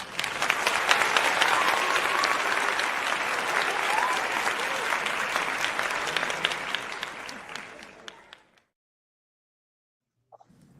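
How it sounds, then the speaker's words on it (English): Applause from a live audience, a dense steady clapping that fills most of the stretch, then fades out into near silence with a faint brief noise at the very end. "Let me give my applause, man"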